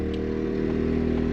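Generator engine at a campsite-free off-grid setup, humming steadily and loudly with a constant droning tone as its revs creep up slightly under the load of a charge controller.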